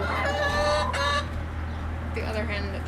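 Hens cluck in a chicken coop on the first night two groups are combined, with several birds calling close by over a steady low hum, while a person talks over them.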